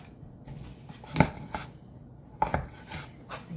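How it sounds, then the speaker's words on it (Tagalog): A knife chops crispy lechon into small pieces for sisig, giving a few sharp, crunchy thumps on a board at irregular intervals, close and fairly quiet, with faint scraping between strikes. "hihiwain lang siya ng maliliit"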